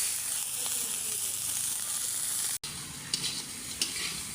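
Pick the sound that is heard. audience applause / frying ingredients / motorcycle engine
frying ingredients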